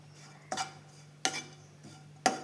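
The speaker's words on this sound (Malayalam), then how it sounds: "ഇനി നമുക്ക് തേങ്ങയൊന്ന് വറുത്തെടുക്കണം" A spoon or spatula scrapes and stirs grated coconut being roasted in a pan, with three short, distinct strokes spaced about a second apart over a faint steady hum.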